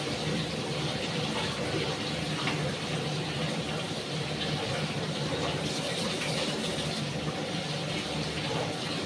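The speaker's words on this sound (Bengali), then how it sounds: "আলু পেঁয়াজ কলিটাকে ভালো করে ধুয়ে নিই।" Tap water runs steadily while potatoes and onions are washed in a kitchen, a continuous, moderately quiet hiss and splash.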